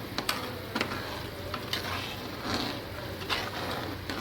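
Fish fry curry gravy bubbling and simmering in a pan, a steady low sizzling boil with soft scattered pops and a few brief clicks, close and continuous with no talking.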